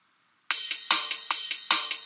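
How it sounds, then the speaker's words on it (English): A short drum pattern programmed in GarageBand with crisp snare hits, kick thumps and ticking hi-hat in a steady two-step rhythm, starting after a brief silence. "you have hi-hat, snare, and bass kick sounds like this"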